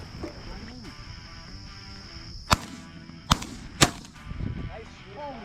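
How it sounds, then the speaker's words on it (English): Shotguns fire at doves during an outdoor dove hunt: three sharp, loud blasts in quick succession over a few seconds, with voices and rustling around them. "Nice shooting, guys."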